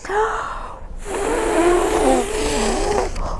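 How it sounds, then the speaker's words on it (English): Several people blow hard at a book page together, a sustained breathy whoosh with voiced, hooting tones mixed in, loud and close, after a brief gap in the blowing. "Let's blow on the page as hard as we can."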